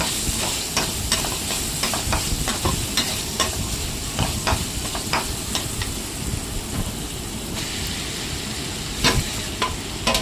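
Potato masala spices with turmeric and fennel sizzle loudly in a hot pan while a spoon stirs and scrapes in repeated clicks.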